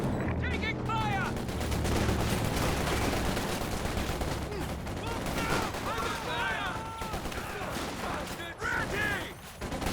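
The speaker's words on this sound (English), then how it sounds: "Taking fire!" Dense rapid gunfire and machine-gun bursts in the World War II strategy game Company of Heroes 2, continuous and loud throughout with scattered explosions and voices mixed in.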